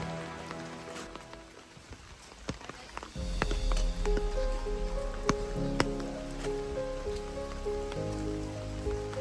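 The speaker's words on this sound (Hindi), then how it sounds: "यहाँ अभी बारिश हो रही है काफ़ी बढ़िया है" Rain falls at the Bhimbetka rock caves in India, with close drops pattering on surfaces. The shower swells noticeably after the first few seconds and then keeps up a steady, dense patter.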